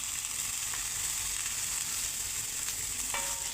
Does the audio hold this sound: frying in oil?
yes